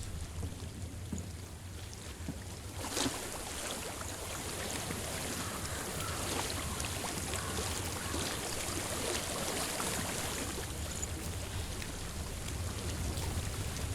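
A flowing water stream in the video game Hellblade: Senua's Sacrifice gives a steady, broad rushing wash of water under a low rumble, continuous and even throughout with no talking.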